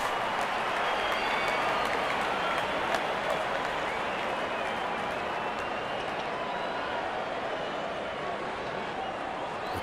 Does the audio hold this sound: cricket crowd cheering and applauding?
yes